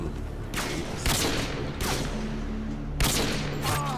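Gunfire in the video game Call of Duty Modern Warfare 2 on the Rust map: four sharp, loud shots at irregular intervals over a dense rumbling game background.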